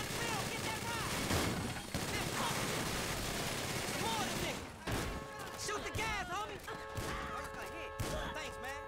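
Bursts of gunfire from the video game GTA with a chaos mod clatter in rapid volleys under excited talk and game audio, dense at first and then more scattered.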